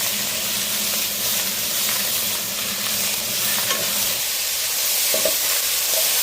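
Masala paste of garlic, coriander and ginger frying in a pan for Karnataka-style mutton chops, a steady close sizzle with stirring scrapes and a few soft clinks, no talking.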